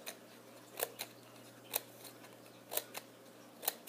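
Scissors snip through paper for a paper roller coaster track in a quiet room, close crisp cuts arriving in pairs at an unhurried, irregular pace.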